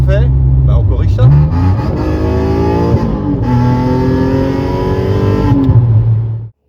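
Alfa Romeo 147 GTA engine on a road test, a steady loud drone with rising and falling harmonic pitch as revs change, continuous and close throughout.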